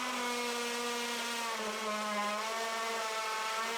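A Bosch 12V cordless drill in second gear bores into brick with a steady, loud, tonal motor whine whose pitch dips slightly partway through as the bit meets harder material and bogs down.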